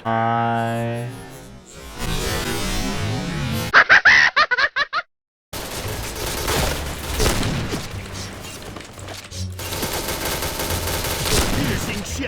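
Gunfire in the video game Point Blank plays in loud, dense bursts: rapid automatic fire, a quick string of single shots, a brief silence, then more continuous shooting over game music and effects.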